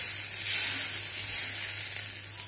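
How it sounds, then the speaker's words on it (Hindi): Hot oil with crackled mustard seeds is poured into fenugreek leaf chutney as a tempering, giving a close, steady sizzle and hiss that slowly fades. "तड़का लगा लेंगे चटनी में"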